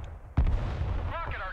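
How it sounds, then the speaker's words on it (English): HIMARS rocket artillery fires in the Broken Arrow video game, giving one sudden heavy boom that rolls into a sustained rumbling tail, and a voice speaks briefly near the end. "Did you fire the HIMARS?"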